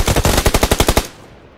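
A rapid burst of about ten loud automatic gunshots rings out in PUBG Lite on the Miramar desert map, then cuts off into quiet.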